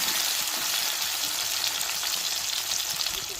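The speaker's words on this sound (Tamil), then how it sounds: "வெங்காயம் பச்சை மிளகாலாம் வதங்கி வரட்டும்" Sliced large onions, green chillies and curry leaves sauté in hot oil with a loud, continuous, even sizzle and crackle that fills the whole moment.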